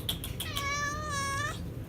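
A cat gives one clear, close, drawn-out meow lasting about a second, following a few soft sounds at the start, in a quiet indoor farmhouse-style room.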